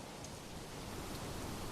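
Heavy rain in the medieval city-building game Manor Lords, a steady, dense hiss of downpour that stays even and fairly soft throughout, with no talking.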